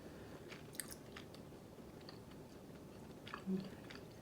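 Wheat-flour tteokbokki rice cakes being chewed close to the mic, soft sticky mastication with a few faint bites over about four seconds, no talk.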